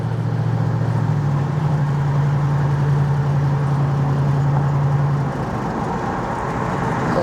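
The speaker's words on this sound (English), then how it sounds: "Nice sound to it. Good exhaust note for sure." The engine of a 1970 Pontiac Firebird Formula drones with a steady low exhaust note while the car is driven, a constant loud rumble that eases slightly near the end.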